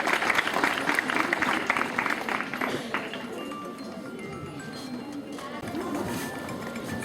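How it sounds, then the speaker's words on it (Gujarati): An audience of friends at a girls' school event in Vadiya claps loudly for the first few seconds, then the applause thins to scattered clapping and murmuring. "મિત્રો તાળીથી વધાવજો બધાને."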